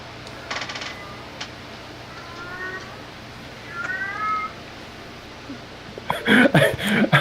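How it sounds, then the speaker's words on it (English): A cat meows a few times in the distance, faint drawn-out calls spaced apart over a quiet background, followed near the end by louder nearby clattering noises. "you just hear Leonard meowing in the distance"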